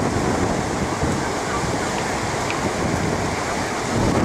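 Windy surf at Bondi Beach, Sydney, on an overcast, chilly day: a constant loud wash of breaking waves mixed with heavy wind rumble on the microphone.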